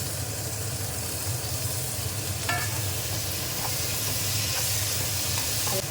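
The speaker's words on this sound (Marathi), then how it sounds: "आता याच्यामध्ये घालते मी हा टोमॅटो आणि आंबा जो कापून घेतला होता तो." Chopped tomato and mango added to fried onions in a pan for a dry bangda fish dish, a loud continuous sizzle with stirring scrapes and a few utensil clinks throughout.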